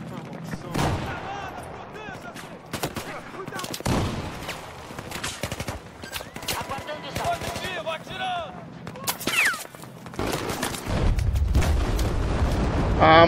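Explosions and bursts of gunfire from the video game Battlefield 4 crackle through the whole stretch, ending in a heavy, loud rumble.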